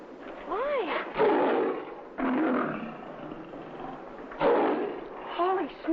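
A lion roars repeatedly in an old 1947 film scene, loud heavy bursts with rising and falling tones, overlapping with voices talking.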